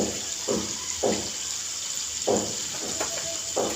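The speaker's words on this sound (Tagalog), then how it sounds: "Lagyan na natin siya ng tubig." Water poured into a cooking pan of pork paksiw, coming in a few short splashing bursts with brief pauses between them over a steady background hiss.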